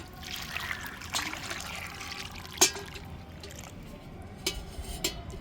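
Water poured into a chrysanthemum plant pot on a terrace garden, a steady close trickle and splash into soil with a few brief louder drips, heard alone.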